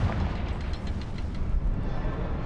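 A fiery Confringo spell blast in the Hogwarts Legacy video game, heard as a loud, sustained low rumble with a few crackling bursts over about two and a half seconds, with no talking.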